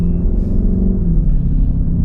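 Sports car exhaust barking and revving close by, a loud, steady low rumble with a brief dip and rise in pitch partway through, no talk over it.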